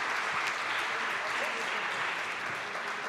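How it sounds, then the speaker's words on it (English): Steady applause from a conference audience at a European universities alliance forum, dense continuous clapping filling the hall at moderate level without a break. "Big round of applause."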